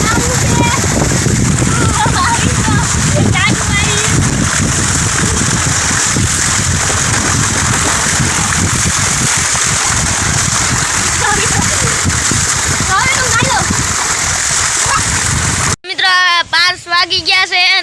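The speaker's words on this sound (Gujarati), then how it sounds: "આપણે મોટર ચાલુ કરી દીધી" An electric water pump motor runs while its water pours out and splashes loudly and steadily, a dense continuous wash; near the end the splashing cuts off and a voice speaks briefly.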